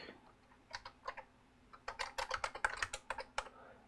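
Keys clack on a Keyboardio Model 01 mechanical keyboard, quiet and close: a few scattered taps, a short pause, then a quicker run of keystrokes with no talking.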